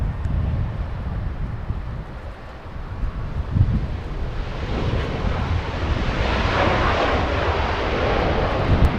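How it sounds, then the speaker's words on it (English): SAS Scandinavian Airlines jet on final approach to runway 24 right at LAX, a steady roar that swells louder as touchdown nears, with wind buffeting the microphone. "SAS a few seconds from touchdown here on runway 24 right"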